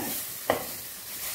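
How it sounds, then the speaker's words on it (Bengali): Spices sauté in a pan for an egg omelette curry, a faint steady sizzle with one soft stirring scrape, quiet and close. "একটু ভালো করে কষতে হবে, একটু সময় 5 মিনিট আমি কষছি"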